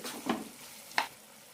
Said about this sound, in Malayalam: ഇടയ്ക്കിടയ്ക്ക് ഇളക്കി കൊടുക്കണം അഞ്ച് മിനിറ്റ് നന്നായി ഒന്ന് തിളപ്പിക്കാം